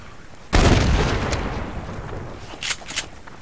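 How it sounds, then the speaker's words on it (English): A grenade blast in the survival video game Subsistence: one sudden loud boom that decays slowly into a rumbling tail, followed by a couple of fainter sharp pops near the end. "we got a grenade. Might as well use it."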